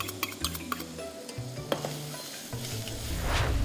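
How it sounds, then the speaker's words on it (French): Shallots go into blond caramel heated to about 150–160 degrees in a saucepan, with clinking spoon stirs and a sizzle that swells into a louder hiss toward the end. "On va incorporer les échalotes."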